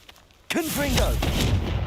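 A Confringo spell in Hogwarts Legacy erupts in a sudden, sharp blast followed by a sustained crackling, booming roar with sweeping tonal whooshes and some voice-like sound underneath.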